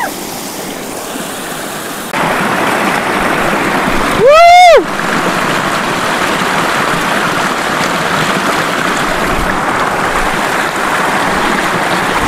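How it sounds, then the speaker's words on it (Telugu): Steady rushing water of the Aare falls near Nagalapuram fills the scene as a broad, continuous roar, with a brief louder swoosh midway; no one speaks. "మన వాటర్ ఫాల్స్ అయితే వచ్చాము చూడొచ్చు."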